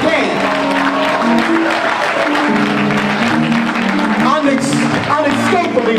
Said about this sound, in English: Give him a hand clap if you can.